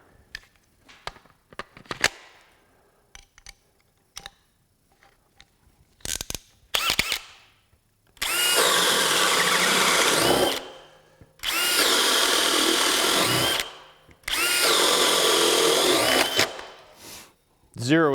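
A power drill drives a 1.5-inch spade bit through wood, with three long, loud sustained whirring runs separated by short pauses, after some clattering handling sounds at the start.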